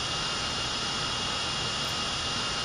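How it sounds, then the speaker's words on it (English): Steady broadband roar of a Concorde's jet engines in the GeoFS browser flight simulator, a continuous airplane engine drone at constant loudness with no talk over it. "We have a Concorde, a French and British airplane."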